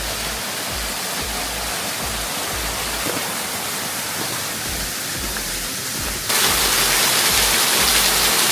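Steady roar of a waterfall beside a rocky step, broadband and continuous throughout, growing noticeably louder and closer partway through with no talk.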